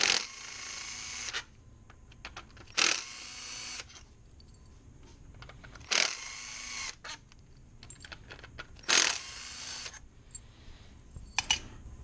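Torx 30 bolts being removed from the intercooler boots of a 2002-2006 MINI Cooper R50-R53, heard as four separate bursts of close, bright ratcheting clicks with quiet pauses between them.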